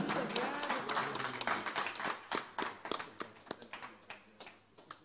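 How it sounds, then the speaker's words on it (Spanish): Scattered clapping from a small live-music audience at a bohemian song tribute in Chuquisaca, Bolivia: distinct individual hand claps in a loose rhythm, fairly quiet and gradually sparser as they die away. "Señoras y señores, con este cariñoso aplauso"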